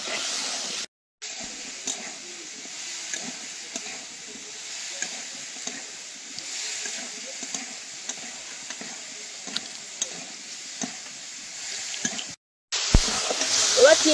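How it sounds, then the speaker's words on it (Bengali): Ripe cherries stir-fried in a pan for a rustic chutney, with a steady close sizzle and the scrape of stirring running throughout, and a voice speaking quietly over it. "চেরি ফলগুলো একটু ভালো করে কষিয়ে দেবো।"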